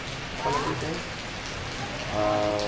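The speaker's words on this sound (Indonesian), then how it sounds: "Mumpung hujannya gerimis gerimis mengundang" A light drizzle falls during a motorbike tour from Denpasar to Garut, making a steady, close hiss of patter on surfaces, fairly loud and continuous with a faint tonal hum underneath.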